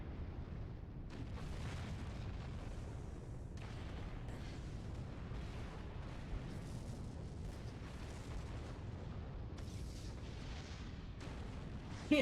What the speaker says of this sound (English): Now time for the party to fly away from an explosion.